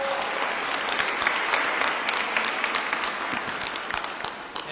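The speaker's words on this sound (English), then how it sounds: "If we keep clapping for everybody" Sustained audience applause for Illinois legislators at a governor's bill-signing event, dense clapping from a crowd filling the room continuously and loudly, tapering slightly at the end.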